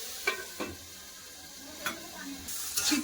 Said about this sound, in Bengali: তেল গরম হয়ে গেছে দিয়ে দিচ্ছি পেঁপা